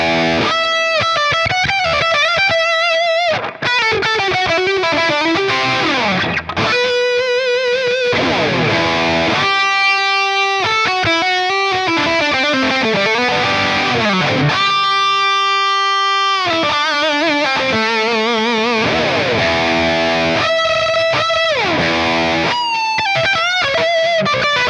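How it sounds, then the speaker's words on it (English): Electric guitar through a Line 6 HX Stomp plate reverb playing chords and short riffs with a lush, spacious reverb tail, notes ringing out and decaying between strums, fairly loud and alone. "let's turn on a different reverb. Let's do maybe the plate reverb, but with less"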